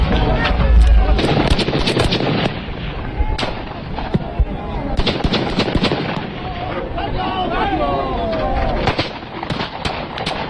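Gunshots in a played-back audio recording, sharp bursts scattered across the stretch over dense, rumbling background noise and wind buffeting, with indistinct voices.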